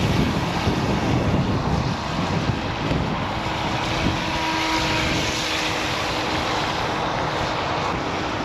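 SMRC FY011 RC water jet boat running flat out at full throttle on water, a steady loud rushing drone with wind buffeting the microphone, continuous with no talking.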